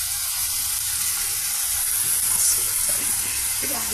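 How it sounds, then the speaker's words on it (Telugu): Potato pieces sizzle and fry in a hot pan for a Telugu potato kurma, a steady close hiss with occasional stirring scrapes and no voices. "ఇక మనం కట్ చేసి పక్కన పెట్టుకున్న బంగాళదుంపల పీసెస్ని ఇందులో యాడ్ చేసేస్తున్నామండి."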